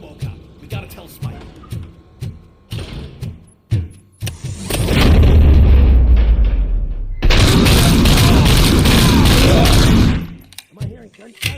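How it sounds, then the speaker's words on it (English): Bursts of rapid gunfire crackle loudly in two long sustained volleys in the game RoboCop: Rogue City, preceded by sharp scattered clicks and thuds, with a voice speaking briefly nearby. "Am I hearing gunshots?"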